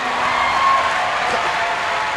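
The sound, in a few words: audience clapping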